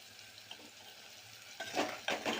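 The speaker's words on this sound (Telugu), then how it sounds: "అల్లం వెల్లుల్లి పేస్ట్ కొంచెం బ్రౌన్గా అయిపోయింది" Ginger garlic paste frying in a pan gives a faint, steady sizzle, with a few louder stirring scrapes near the end.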